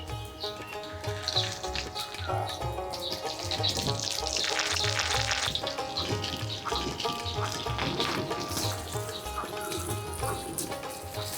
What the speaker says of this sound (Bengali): পুলিগুলা যে আমরা তৈরি করলাম, এখন এরা তেলে ভাজবো।